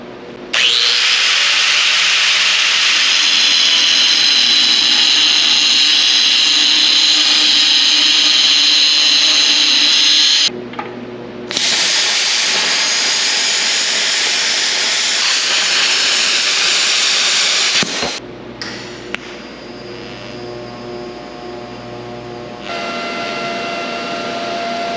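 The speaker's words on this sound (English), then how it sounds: "first I'm going to cut some of this 2-inch DOM" A power saw cuts through 2-inch DOM steel tubing in three long, loud, sustained bursts, a steady grinding whine separated by short pauses.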